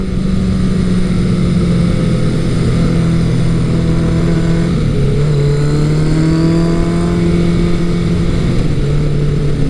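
A Kawasaki Eliminator 900 motorcycle engine drones steadily while riding through twisty roads, its pitch rising and falling with throttle changes and wind rush, loud and continuous with no talk.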